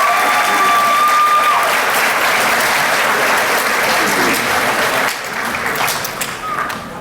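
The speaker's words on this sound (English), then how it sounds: "Let's give them a round of applause." School assembly audience at an alumni awards event applauding, a loud sustained crowd of clapping with a few cheers, tapering off toward the end.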